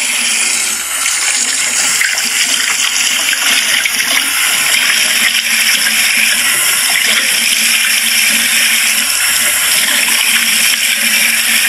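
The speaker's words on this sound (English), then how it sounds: "Okay, first I'm going to wash my face." Running water in a video game bathroom as a character washes its face, a loud, steady rushing stream like a tap at full flow that holds constant throughout, with no talking.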